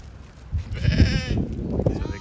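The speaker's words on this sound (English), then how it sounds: "So they're good, some good sheep in here." Ewe lambs of mixed breeding bleat in a paddock, one loud, close, wavering call standing out over quieter flock sounds.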